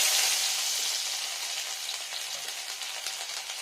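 Ginger dropped into hot oil with sugar for a vegetarian fenugreek-leaf dish, giving a loud steady sizzle and crackle close by that eases slightly as it goes on, with no talk.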